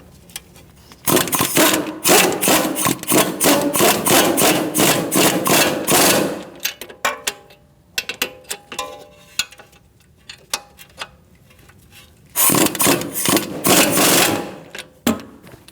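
A ratchet wrench tightens the bottom bolts on a 2008-2014 Mercedes-Benz C300 front strut and spring assembly, with loud, rapid ratcheting clicks in long runs separated by short pauses and sparse single clicks.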